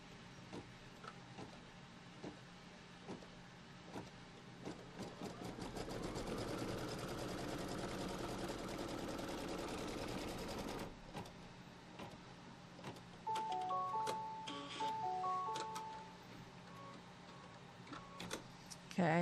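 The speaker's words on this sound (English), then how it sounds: "It's going to do a stitch right across." A computerized embroidery machine sews a straight tack-down stitch line across a Kimberbell Pumpkins & Potions quilt block, a steady buzzing drone that swells for several seconds, then gives way to lighter ticks and a voice.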